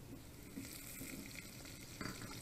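Garlic fries in a pan with a steady, quiet, continuous sizzle, no voices.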